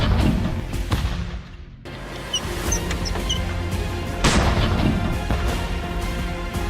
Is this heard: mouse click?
no